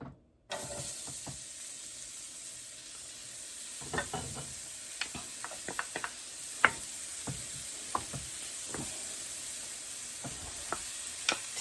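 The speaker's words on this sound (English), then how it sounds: "We are ready to go ahead and add our onions." Onions going into a hot pan for curry chickpeas give off a steady sizzle that runs throughout, broken by scattered knocks and stirring scrapes of a utensil, with no talking.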